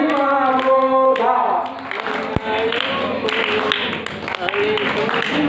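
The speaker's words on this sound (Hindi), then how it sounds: "ताली गड़बड़ बज रही है" An audience at a religious sermon in an ashram claps together, a dense steady burst of many hands near the start that thins and turns uneven, with voices and chanting mixed in.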